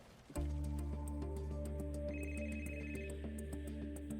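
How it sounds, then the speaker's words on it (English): A telephone rings with a repeating electronic tone, a steady sequence of bright pulsing beeps that starts abruptly and continues loudly and alone throughout. "Dr. Chua woke up to the sound of his phone ringing"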